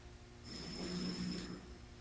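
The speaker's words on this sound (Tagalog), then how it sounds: "Humahagop ka lang pag humihilik." A sleeping person gives one slow, breathy snore that swells and fades in the middle of a short, quiet stretch, with faint background hum.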